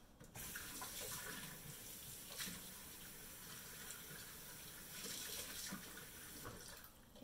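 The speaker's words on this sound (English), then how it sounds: "I'm gonna wash the lid." Tap water runs steadily into a kitchen sink while a lid is rinsed under it, a continuous close gush with faint clatter and no speech.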